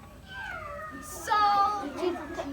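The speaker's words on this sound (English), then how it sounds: "We don't need cat sounds, thank you." A cat meows, with a couple of rising and falling cries that start alone and are then partly overlapped by a child-like voice and other background noise.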